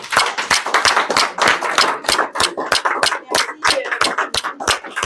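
A church congregation applauding after a sermon on charity and faith: loud, sharp, rhythmic clapping in a steady beat for several seconds, close and uninterrupted, with no talk over it.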